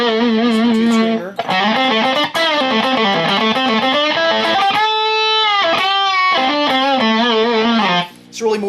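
Electric guitar with Tube Screamer overdrive plays sustained, slightly crunchy chords and a melodic line, loud and continuous, with a brief dip near the end.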